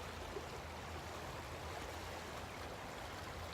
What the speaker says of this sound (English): One of my favorite places by the Boise River.